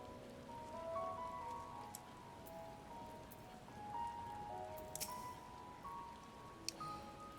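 Rain falling in the Final Fantasy XIV Endwalker game world, a steady soft patter of drops spread evenly across the scene with faint tonal game music layered underneath and a few small splashy ticks near the end.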